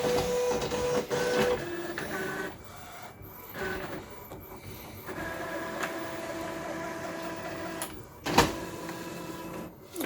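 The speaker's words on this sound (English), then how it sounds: "let's do nozzle check first" An Epson 1500 printer running a nozzle check whirs and buzzes in motor passes, with mechanical clunks and a sharp knock near the end, close and steady, with no talking.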